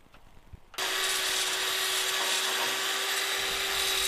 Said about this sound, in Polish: Spiłowałem to trochę takim krążkiem na wiertarce z papieru ściernego.